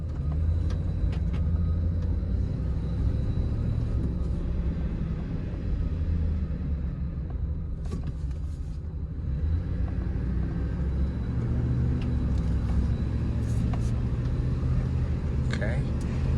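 A Chevrolet Silverado pickup truck bought from a Copart salvage auction drives around an apartment complex, heard from inside the cab as a steady low engine and road rumble that holds throughout.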